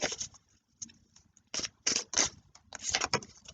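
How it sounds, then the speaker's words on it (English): Crisp bursts of papery riffling and soft slaps as tarot cards are shuffled by hand, in several quick clusters with brief pauses between, close by. "I'm gonna do one more shuffle just because."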